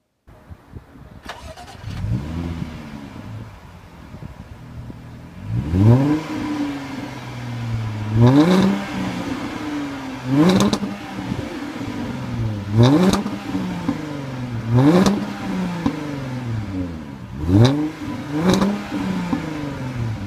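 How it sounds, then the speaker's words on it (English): A 2015 Jaguar XJL Portfolio 3.0L supercharged AWD engine cranks and fires up, then revs repeatedly in a series of sharp rising and falling bursts, loud and close. "to start the engine, all I have to do is push your foot down on the brake and press the start button right here"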